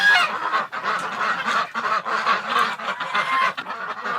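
Loud, close honking and quacking from a group of ducks in winter cold, calling over one another in rapid overlapping bursts.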